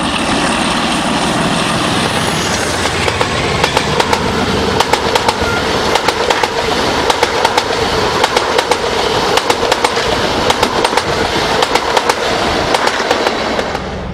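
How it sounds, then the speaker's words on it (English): British diesel locomotive 47790 hauls a train on a return trip from the coast, a loud engine roar with rhythmic clickety-clack of wheels over rail joints throughout. "47790 working a return trip from the coast"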